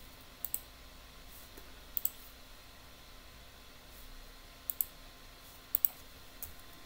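Short, quiet mouse clicks come in quick double pairs, several spaced through the stretch over faint room hiss, as run is clicked in a programming IDE.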